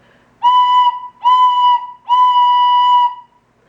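Three clear, steady notes on a tin whistle, the same B pitch each time, played close and alone; the first two are short and the third is held longer.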